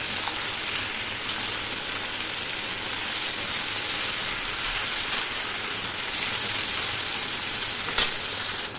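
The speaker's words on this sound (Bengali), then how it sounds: "দেখো মাছটা একটা সাইড হয়ে গেছে, ভালো করে ভেজে নেব মাছটাকে।" Small chara pona fish frying in a pan give a continuous, even hiss of sizzling oil with occasional soft crackles and a faint stir near the end, moderately loud and unaccompanied by voices.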